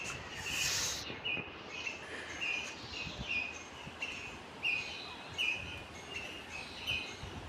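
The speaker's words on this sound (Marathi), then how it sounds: "पक्ष्यांचा किलबिलाट ऐकायला येतोय." Thin, high bird chirps repeat in short bursts from banyan and peepal trees against a quiet outdoor background, fairly faint and scattered.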